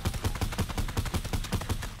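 Rapid suppressed gunfire from a video game weapon, a fast steady string of about a dozen muffled thumping shots in two seconds, close and even, with no talk.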